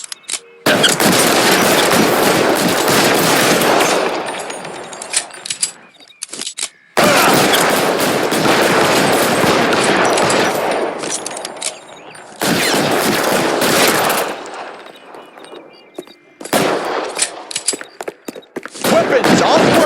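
Gunfire in the L.A. Noire video game: long, loud bursts of dense automatic fire in several sustained volleys, split by brief silent gaps, with voices faintly under the shooting.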